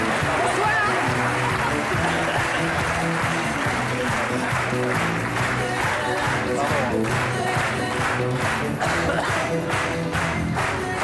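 A studio audience on a French TV show applauds, a dense steady clapping that turns more rhythmic toward the end, over music and voices.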